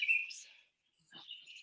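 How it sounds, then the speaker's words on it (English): Electronic bird-call sounds chirp in short high tweets with a brief gap between them, fairly faint and heard alone. "Sorry, I have all these bird calls."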